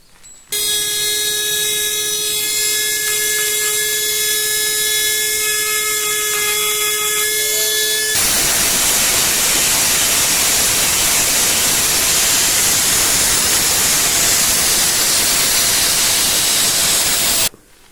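A power tool carves an outline into a small stone sculpture maquette, first a steady high whine, then a loud, continuous gritty grinding roar that runs unbroken until it stops.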